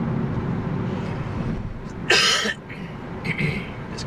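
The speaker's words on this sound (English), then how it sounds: "this cough, man, it's killing me." A single sharp, loud cough from a driver in a moving car bursts out over a steady low engine drone, followed by a couple of fainter throaty sounds.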